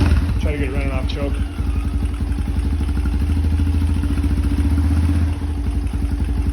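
A small clone engine with a gutted exhaust runs loud and close, giving a steady, rapid, thumpy firing beat throughout, with a brief voice near the start.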